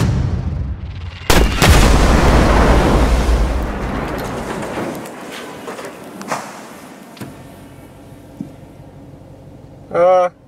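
Gunfire aimed at a van's tires opens with a heavy, booming blast that decays over several seconds, followed by scattered sharper thuds and a short burst of rapid clicks near the end, with no voices.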